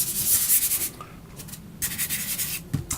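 Pastel chalk scrubs over paper while blue cloud shapes are worked in. Two close, fairly loud stretches of dry scratchy friction are split by a brief quieter pause, and no one speaks.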